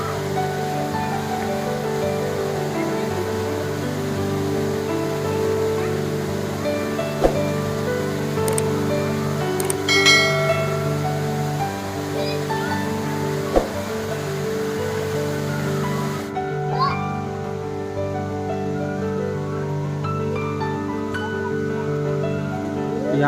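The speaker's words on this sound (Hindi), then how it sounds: "साथ में यहाँ पे झरना है, वो भी मैं आपको दिखाता हूँ।" The waterfall at Shilparamam, Hitech City, Hyderabad, gives a steady, broad rush of falling water that runs without a break for over twenty seconds, with faint occasional knocks in the background.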